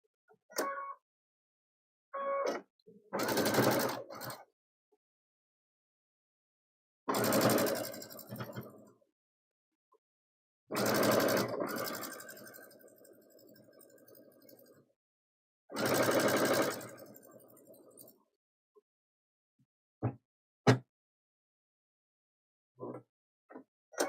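A sewing machine stitches a table runner in four separate bursts of rapid whirring, some a few seconds long, with silence and a few faint clicks between them.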